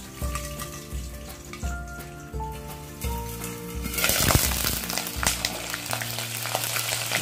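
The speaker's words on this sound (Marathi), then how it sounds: "ते आता अशी फोडणी द्यायची आणि झाकून घ्यायचं" Crushed garlic cloves with a little water hit hot oil in a pan and sizzle loudly, a steady crackling fry that swells and carries on to the end with no talking.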